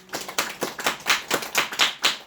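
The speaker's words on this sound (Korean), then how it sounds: "하나님 앞에 영광의 박수 올려드립니다" A church congregation claps at a worship service, a short burst of fairly quick, irregular claps that sound moderately close and run without talk.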